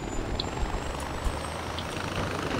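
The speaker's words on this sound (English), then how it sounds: "Helicopter dito, oh." Helicopter in the Far Cry 4 video game, a steady droning rotor and engine rumble that holds an even loudness, with a few faint clicks and game effects over it and no speech.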